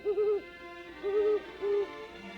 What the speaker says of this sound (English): heard their spooky hooting echoing through the dark and lonely night